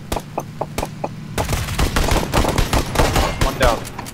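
Gunfire in the PUBG video game: a few spaced single shots, then dense rapid automatic bursts, loud and close with chaotic overlapping reports.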